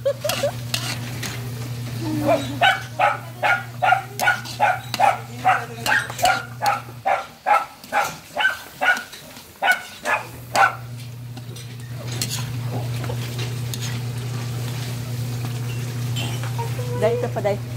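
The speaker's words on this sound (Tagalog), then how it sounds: "may aso pa oh" A dog barks about a dozen times in a quick, even series beside food frying and being stirred in a pan, over a steady sizzle and a low hum, then falls quiet while the cooking continues.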